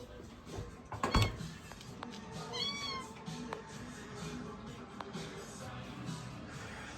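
A house cat meows in a kitchen where cheese bread is baking, with one clear wavering meow in the middle and a sharp knock just before it, set against quiet room tone.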